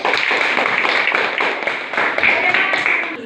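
A classroom of students claps together after a teacher's request during a history lesson, a dense, steady patter of many hands held close and loud for about three seconds with no pauses.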